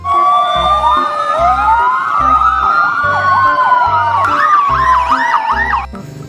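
A toy fire truck's wailing siren sweeps up and down continuously, then shifts to a faster yelp near the end, over a steady rhythmic electronic beat pattern underneath.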